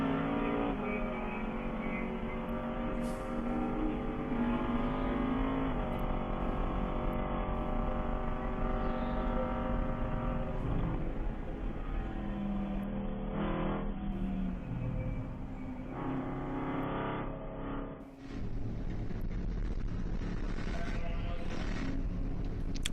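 Onboard a BMW GP1 race car with V8 power at Circuit of the Americas, the engine drones loud and continuous, rising through revs and dropping on downshifts, with a brief lift near the end.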